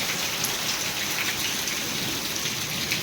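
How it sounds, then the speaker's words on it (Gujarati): Steady, dense rainfall hissing continuously on surfaces, loud and close, with no voices. "અને વરસાદ જો વધારે આવ્યો"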